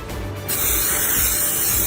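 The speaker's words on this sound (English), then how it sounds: "I'm just going to spray this foam core." A steady, loud hiss of aerosol adhesive sprayed onto paper-backed foam core starts after a brief quieter moment and continues without a break, up close.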